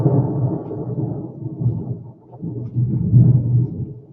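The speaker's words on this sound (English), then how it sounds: "Did you guys hear that thunder? That was pretty good." Low thunder rumbling from a storm, a deep rolling murmur that swells, dips briefly, then builds again, heard at a distance with no talk.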